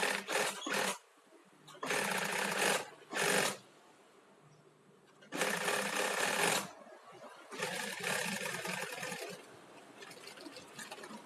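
A sewing machine stitching a single-stitch seam, with locking stitches at the start and end, runs in several separate bursts of fast, steady needle clatter. Short pauses of near quiet fall between the bursts, and no one speaks.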